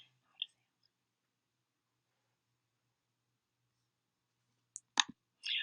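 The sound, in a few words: clicking icons on a computer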